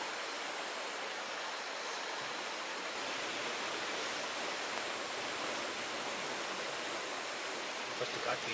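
Rain falling over an outdoor village kitchen in Kerala, a steady, dense hiss of rainfall that runs unbroken through the whole clip.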